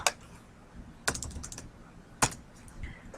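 Short bursts of keystrokes on a computer keyboard, three quick clusters of clacking taps spaced about a second apart, close and clear with no talk.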